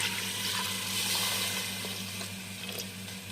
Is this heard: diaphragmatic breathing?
no